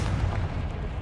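A Confringo blast in a spell-casting video game booms as a brief, low rumbling explosion, loud and sustained through its short length.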